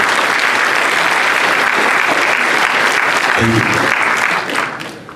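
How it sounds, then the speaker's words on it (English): A large audience at a medical school commencement applauds loudly and steadily for several seconds, then the clapping fades out. A voice briefly speaks near the end. "Let's give a round of applause, please, to all the Filipino doctors that went before you."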